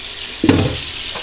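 Minced meat lands in a hot frying pan with one short, sharp burst of sizzle, then settles to a faint steady crackle.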